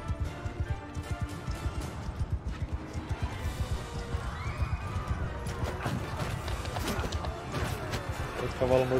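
Horses gallop across a battlefield in Mount & Blade 2: Bannerlord, rapid rhythmic hoofbeats pounding close and loud, with clashing combat noise and occasional thuds layered over the galloping.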